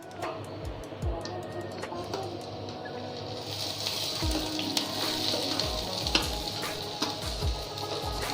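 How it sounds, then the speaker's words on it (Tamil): Chopped onion, coriander and curry leaves sauté in hot oil for paneer masala, giving a steady close sizzle with occasional soft stirring knocks and scrapes. "கருவேப்பிலையில் போட்டு வதக்க போகிறோம்"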